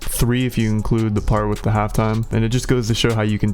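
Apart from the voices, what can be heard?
No everyday noises stand out.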